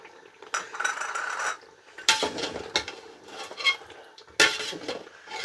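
Beef paya masala being stirred and fried with oil in a pot: bursts of spoon clatter and scraping against metal, separated by brief pauses, close and fairly loud with only a faint sizzle beneath.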